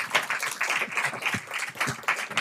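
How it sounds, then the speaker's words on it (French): Audience applause at a conference on integrated healthcare in Switzerland, dense close clapping filling the whole stretch with no talking. "Vous pouvez les applaudir."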